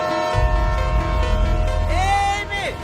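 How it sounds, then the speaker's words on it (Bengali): A train draws near with a low, steady rumble, and near the end a sustained tonal horn blast bends upward then falls away, loud and close. "ট্রেন আসি, সরে যাও।"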